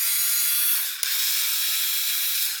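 An electric screwdriver runs steadily as it tightens a screw, a continuous close whirring drone with a brief click partway through and no talking.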